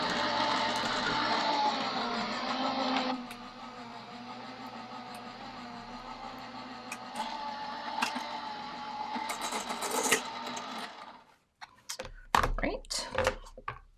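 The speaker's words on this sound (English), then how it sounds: "I'm going to run this through my die cut machine to cut out 3 butterfly windows" A die cut machine cranks card stock through its rollers to cut three butterfly windows, giving a steady mechanical grinding and rumbling that runs for about eleven seconds, changes pitch partway through, then ends in a few clunks and thumps.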